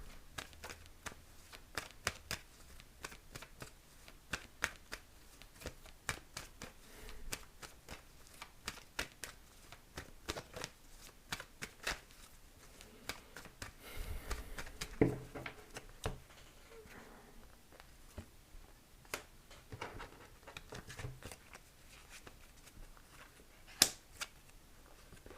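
Tarot cards shuffled in repeated quick riffles and soft flicks over about twenty-five seconds, with crisp papery snaps scattered throughout at a fairly quiet, close level and no talking.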